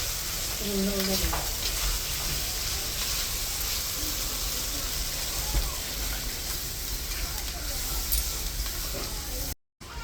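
Desi chicken curry masala sizzles in hot oil while being stirred, a steady frying hiss with occasional scraping and clinks, and a voice briefly speaking over it.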